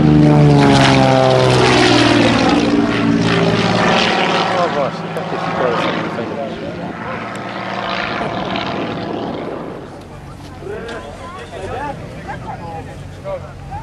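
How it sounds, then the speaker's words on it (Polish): A light propeller airplane with a powerful engine roars loudly and close, its buzzing tone shifting in pitch as it passes and gradually fades, with voices talking over it at an airfield training event. "Lekki samolot z nadmiarem mocy."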